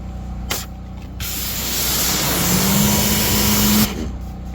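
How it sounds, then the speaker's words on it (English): Pressurized water spray rinsing a car wheel, a loud steady hiss that builds and holds for a few seconds before cutting off, with brief bursts before it. "start off by rinsing the wheel off"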